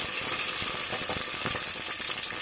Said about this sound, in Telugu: పోపు దినుసులు, మినపప్పు, ఆవాలు, జీలకర్ర, పోపు దినుసులు వేసుకొని కరివేపాకు వేసుకొని